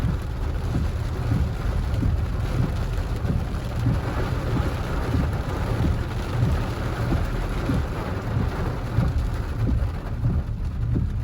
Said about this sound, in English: Rainy day here at the Sangster International Airport.